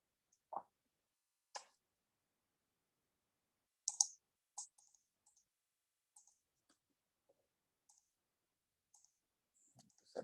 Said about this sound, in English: So let me click on register.